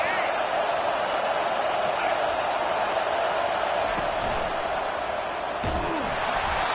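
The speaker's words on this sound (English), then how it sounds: "This crowd trying to make life miserable for this offense" A college football stadium crowd in the video game College Football 25, Alabama Crimson Tide at Auburn Tigers, keeps up a steady loud roar, with a thud near the end and a commentator talking over it.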